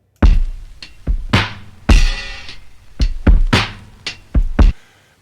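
A short hip-hop drum break slowed far below its original speed: heavy, drawn-out kick thuds and smeared snare cracks with long ringing cymbal tails, spaced unevenly and loud, gritty and lo-fi, with no voices.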